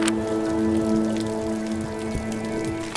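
Rain pattering steadily at an outdoor wedding, a close, dense sound of drops striking surfaces that holds level for a few seconds, with an occasional sharper tap and no talking.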